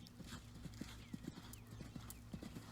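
Hooves of a horse ridden during a jumping test beat out a steady, rhythmic clip-clop, faint and somewhat distant, over a low background hum.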